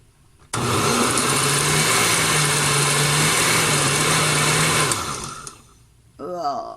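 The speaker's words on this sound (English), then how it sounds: "Yeah, now everything is blended, so I'm going to pour it into the rest of the okra." A kitchen blender runs at a loud, steady whir while blending okra for Ghanaian okro stew, then cuts off and spins down, followed by brief talk.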